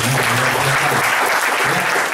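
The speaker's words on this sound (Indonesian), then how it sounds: "Tepuk tangan teman-teman." A large crowd claps and cheers at an indoor agents' event, dense, loud and continuous, with a few voices rising through the noise.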